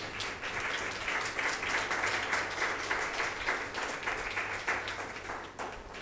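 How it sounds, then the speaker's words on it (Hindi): Sustained applause from a crowd, dense steady clapping that fills the whole stretch at an even level, slightly distant and roomy. "तालियां अगर बजानी तो जोर से बजाइए"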